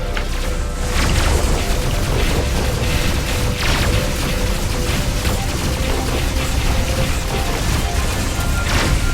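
Missile strikes battering a spaceship in Rebel Galaxy, a dense, loud, continuous wall of booming impacts and rumbling blasts with no pause.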